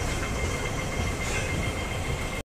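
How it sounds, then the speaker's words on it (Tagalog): A Hong Kong metro train arrives at the platform on the Tsuen Wan West to Whampoa journey, a loud, steady rumble and roar that fills the space, then cuts off abruptly. "Ito na yung train, oh."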